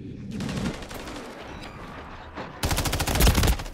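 Gunfire in Call of Duty: a dense run of rapid automatic shots through the first stretch, then a louder, closer burst of sharp repeated bangs near the end, with no talking.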